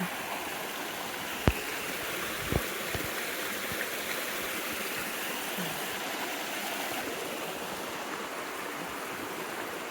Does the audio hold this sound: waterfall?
yes